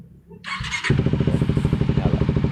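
A Kawasaki Ninja single-cylinder motorcycle engine cranks with a brief whine from the starter, then catches and settles into a loud, steady, rapidly pulsing idle close by, with no talking.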